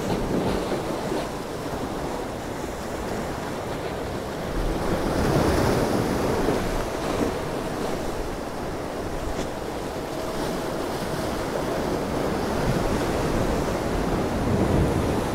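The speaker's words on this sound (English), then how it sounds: "Some big waves coming in." Big sea waves roll in under strong wind on a rough day at Ciudad Jardín, Palma de Mallorca, with a continuous surf roar swelling as breakers land and wind buffeting the microphone.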